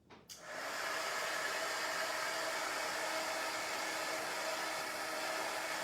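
A hair dryer switches on after a brief click and blows steadily with a close, even whooshing hiss while drying a chalk paste transfer on a craft project.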